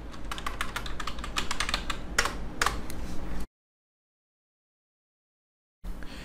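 Keystrokes clatter rapidly on a computer keyboard as a database login command is entered, a dense run of close clicks for about three seconds, then silence, then the tapping resumes briefly.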